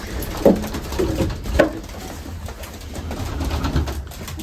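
Racing pigeons in a loft cooing softly among the male birds while they feed, several low coos and a few louder calls over a steady background of shuffling and pecking, no talk.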